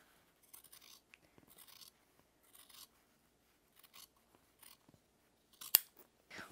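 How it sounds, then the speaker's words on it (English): Scissors trim a fabric collar seam in a string of short, quiet snips spread sparsely across a near-silent background, with one sharper click near the end. "You could also grade the seam or just trim it, which is what I'm doing here."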